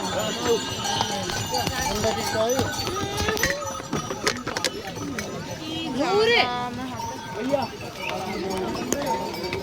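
Horses clip-clop along the busy Kedarnath pilgrimage trail, hooves tapping irregularly beneath constant nearby talk and crowd babble.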